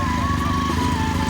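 Motorcycle engine running steadily at close range on a ride near a village outside Bangalore, a continuous low rumble with a whining tone above it and no talk over it.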